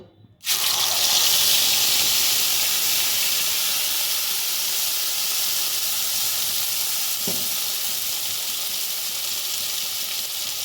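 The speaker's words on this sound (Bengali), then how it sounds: "এবার কড়াইতে আমি পোস্ত আর কাঁচা লঙ্কা বাটাটা দেবো" Poppy seed and green chilli paste hits a hot wok with a sudden loud burst of sizzling that settles into a steady, intense hiss, with one brief clink partway through and no talking.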